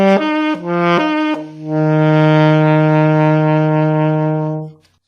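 Saxophone playing a low-register octave-leap exercise: a few quick higher notes, then a long sustained low C held for several seconds, loud and close, alone with no talking.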